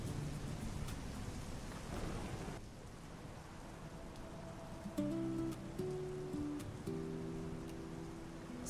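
Steady rain falls on a rainy day, a continuous hiss that softens after a few seconds, with low rumbles and some faint tonal sounds underneath.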